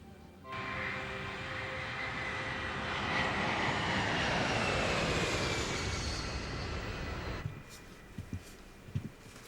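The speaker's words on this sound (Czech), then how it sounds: "ostatní letadla odlétají" Airplanes taking off, a loud jet roar swelling then fading with a rising whine, followed by a few faint thumps after it passes.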